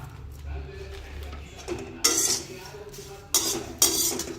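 Pumpkin and sunflower seeds roasting in a pan, stirred with a utensil that scrapes and clinks sharply against the metal a few times, close, over a faint low rumble.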